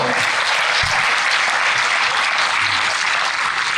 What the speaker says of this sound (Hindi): प्रश्न के लिए ताली बजाओ।